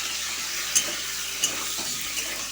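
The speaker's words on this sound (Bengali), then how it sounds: "চলো আমি একটু ভেজে নিই" Food frying in a pan at home, with a steady close hiss and crackle throughout and a few brief clinks of stirring.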